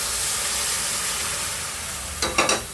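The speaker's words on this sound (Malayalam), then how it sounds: "ഇനി ഫ്ലെയിം കൂട്ടി വെച്ചിട്ട് ഈ ചൂടുള്ള വെള്ളം നമുക്ക് ഇതിലേക്ക് ഒഴിക്കാം" Semolina upma roasts in a pan over a high flame with a constant soft hiss, then hot water is poured in and the pan erupts in a few loud, sharp sizzling bursts right at the end.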